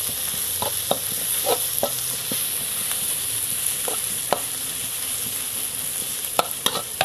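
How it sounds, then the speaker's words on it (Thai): Pounded chili and garlic stir-fried in leftover oil from frying eggs for chicken kaprao, a loud continuous sizzle broken by sharp scrapes and taps of a spatula against the pan. "ใส่พริกกับกระเทียมที่ตำแล้วลงไปเลยค่ะ อันนี้ความเผ็ดตามชอบนะคะ ผัดให้หอมก่อนค่ะ"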